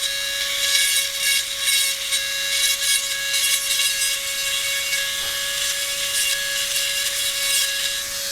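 Dremel rotary tool with a fine diamond tip grinding the casting of a Wilton C2 vise during restoration, a steady high-pitched whine with rapid pulsing scratchy bursts as the bit works the metal.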